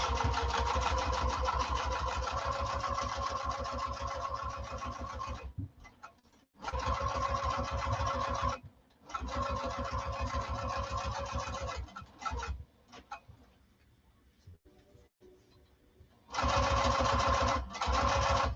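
A sewing machine stitches a quarter-inch quilt seam in several bursts of steady whirring, stopping briefly between runs with quiet gaps, close and moderately loud without speech.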